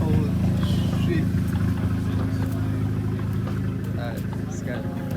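At a car meet, a loud car idles with a deep, steady exhaust rumble that holds throughout, while people talk in the background.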